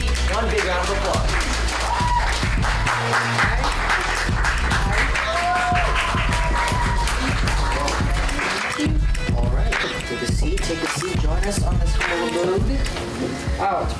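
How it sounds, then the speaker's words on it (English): Audience applause welcoming an interview guest on a comedy talk show, steady clapping under loud music and some talk, with the clapping partly masked. "Let's give Karen Stacey one big round of applause"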